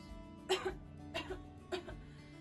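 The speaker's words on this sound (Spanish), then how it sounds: "Discúlpame la tos, pero es que me encuentro delicada de salud" Three separate coughs from a woman on a theatre stage, spaced roughly evenly apart, close and moderately loud over a low steady background hum.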